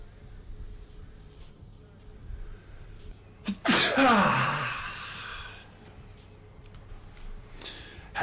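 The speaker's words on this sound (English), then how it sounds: "Had to sneeze all the BS out of me." A single sharp, loud sneeze bursts out close to the microphone during a basketball video game stream, with a quick intake of breath before it and quiet room noise on either side.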